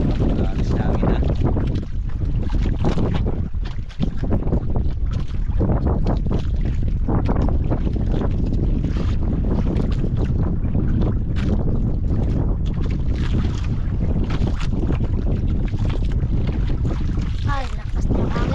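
Strong wind buffets the microphone on a fishing boat at sea, a loud, constant roaring rumble with gusts, while people talk faintly beneath it.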